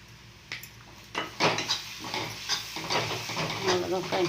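Egg with chili and turmeric powder sautéing in a pan, with a spatula scraping and clinking against the metal in uneven strokes over a low, soft sizzle, close by.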